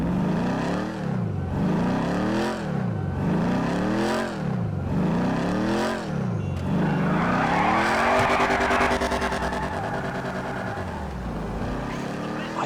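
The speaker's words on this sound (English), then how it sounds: "I just cannot get enough of a V8 noise like that" A deep V8 engine of the Imponte Ruiner, a Pontiac Trans Am-style muscle car in GTA, revs repeatedly in rising, falling surges, then holds a loud roaring drone, close and continuous.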